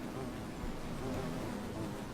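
A collection of apiary beehives in modded Minecraft with bees buzzing around them, a low, faint, continuous hum with a slight flutter.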